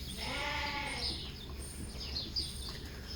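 Sheep in fresh bedding during a mid-afternoon snack, with a bleat near the start over a low background hum and faint chewing and shuffling sounds after it.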